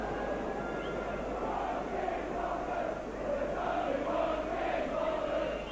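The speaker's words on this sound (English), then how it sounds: "And he gets himself a cheer, does Dino." Spectators at a 2000 rugby league match between Leeds Rhinos and Huddersfield in Sheffield raise a sustained cheer, a broad, even wash of crowd noise that carries on without a break.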